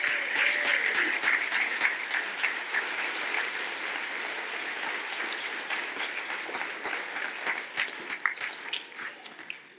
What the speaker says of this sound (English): I think Ken deserves a round of applause for the work he has done.